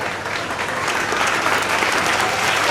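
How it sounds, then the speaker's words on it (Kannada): Audience at a Montessori school's annual day and farewell party claps steadily in a dense, sustained round of applause from a large crowd, loud and even throughout the clip. "ಅವ್ರಿಗೊಮ್ಮೆ ಜೋರಾದ ಚಪ್ಪಾಳೆ ನಿಮ್ಮೆಲ್ಲರಿಂದ"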